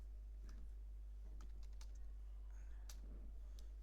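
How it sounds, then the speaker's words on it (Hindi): Faint, sparse keystrokes on a computer keyboard while typing a Linux fdisk command in a console, scattered soft clicks over a steady low electrical hum. "सबसे पहले हम जस्ट टाइप द कमांड"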